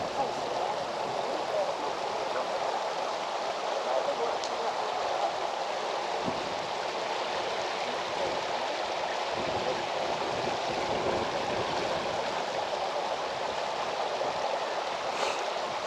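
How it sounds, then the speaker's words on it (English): Water rushing out at the base of Malham Cove on a wet, windy day, a steady broadband wash that runs evenly throughout, alone and fairly distant, with faint wind mixed in. "That's where the river comes out at the bottom, goes down in the sinkholes on the top"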